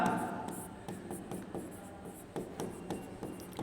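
Chalk scratches and taps against a classroom board as ligand names for coordination compounds are written out, giving a quick irregular series of short strokes and clicks, close and fairly clear over faint room noise.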